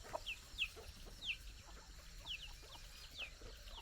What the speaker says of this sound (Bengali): আর এই মুরগিগুলো খেলে বেড়াচ্ছে